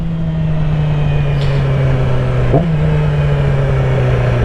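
A Yamaha R6 motorcycle engine holds a loud, steady drone during a wheelie, with a quick dip and recovery in pitch partway through.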